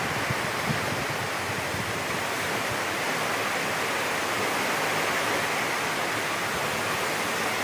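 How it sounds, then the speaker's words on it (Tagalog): Very strong typhoon wind from Typhoon Kristine blows in a constant, heavy roar that stays loud throughout, with no talking. "Sobrang lakas ng hangin."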